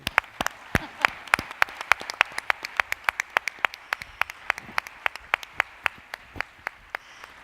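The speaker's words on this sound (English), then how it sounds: "So I would like to use that time with a great round of applause." After a roundtable panel on governance, a small group claps for the speakers, a thin scatter of sharp, distinct hand claps in a quick, fairly regular rhythm, close and clear with no voices.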